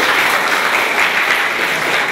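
Dense, continuous clapping from an audience at a talk in a hall, loud and sustained for the whole moment without a break.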